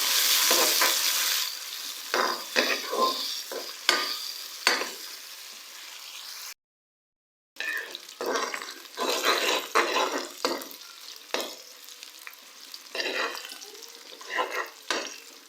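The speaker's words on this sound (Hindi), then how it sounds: "प्याज को जो है हम लोग हल्का सा फ्राई कर लेंगे।" Onions sizzle and crackle steadily as they lightly fry in a hot pan for qeema fry, with bursts of stirring scrapes and a brief silent gap partway through.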